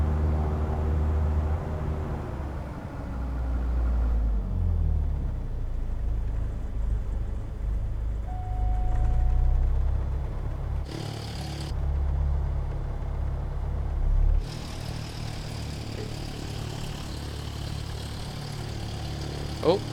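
A Diamond DA40 light aircraft's engine rumbles at idle while taxiing in Microsoft Flight Simulator, a close, steady low drone that fades toward shutdown, with someone talking over it.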